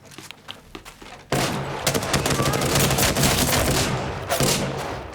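Sustained automatic gunfire in the Apex Legends battle royale shooter, with rapid, dense bursts starting abruptly and continuing for several seconds, loud and close.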